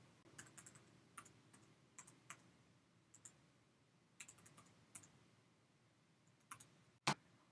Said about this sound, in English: Once you type in the IP address,